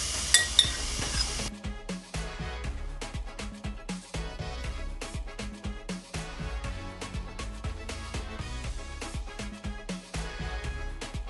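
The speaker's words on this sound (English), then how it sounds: "We're going to now add our guava pieces into the pot." Guava pieces tumble into a cooking pot for a Bahamian guava duff, making a busy run of close clinks, knocks and clatters against the metal with a faint stirring scrape between them, and no talking.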